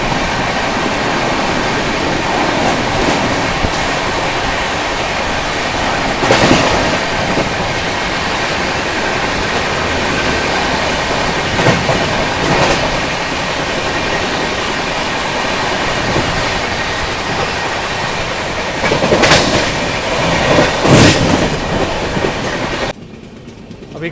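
Guwahati–New Delhi Rajdhani Express running at speed past Khagaria junction, heard from onboard as a loud, continuous rumble with rhythmic clickety-clack of wheels over rail joints and occasional sharp rattles.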